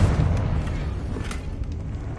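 The Confringo blasting spell goes off in Hogwarts Legacy, a loud, deep boom at the start that rumbles and fades, followed by faint scattered pops.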